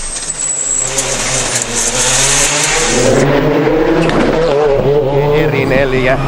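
A rally car races through the Aiglun Gorge stage at the Monte Carlo rally, its engine revving hard close by as it passes, with tyre noise and a commentator talking over it.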